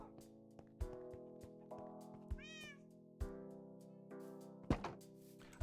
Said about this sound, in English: I put cats outside the gates just to scare the creepers away